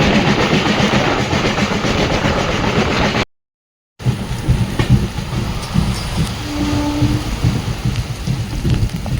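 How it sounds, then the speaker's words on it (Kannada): SMVT Bangalore–Murudeshwar Express on the Konkan line arriving with a loud, steady broadband rumble and rattle, with a brief dropout near the middle before the rolling noise resumes alongside a faint horn-like tone. "ಇಲ್ಲಿ ನೋಡಿ ಇವಾಗ ನಮ್ಮ ಟ್ರೈನ್ ಬಂದೈತ್ರಿ"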